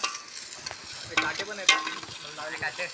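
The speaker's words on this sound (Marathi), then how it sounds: "कांदा जोपर्यंत आपला लाल होतो तोपर्यंत त्याला चांगला मसाल्यात भाजून घ्यायचा" Onion frying in masala on a coal-fired cooking setup outdoors, a steady sizzle with scraping stirs and a few sharper clinks, close and fairly loud throughout.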